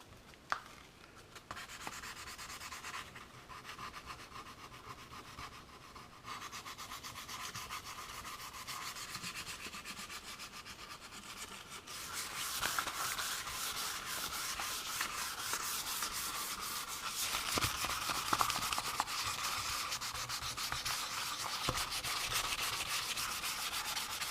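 Sandpaper of 400 grit rubbing along the satin neck of an Epiphone Les Paul being converted to Gibson style, a steady close scratchy hiss of repeated strokes that grows a little louder and brighter in the second half, with no talking.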